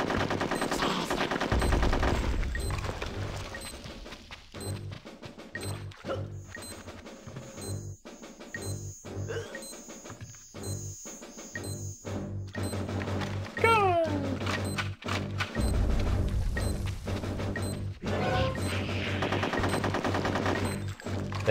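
Rapid game gunfire in Conker's Bad Fur Day, semi-automatic weapons cracking in dense bursts through much of the stretch, loud and close, with a game voice and effects mixed in.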